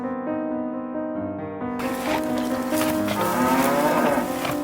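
Cows moo in a barn, with a long low moo rising over gentle background music and sound effects. The mooing is close and fairly loud, and no one speaks.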